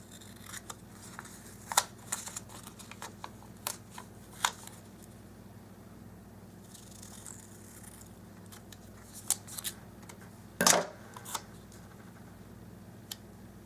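Scissors snip through a sheet of paper while a budget-planning printable is trimmed, quiet scattered crisp cuts with a louder rustle of paper near the end, close and alone.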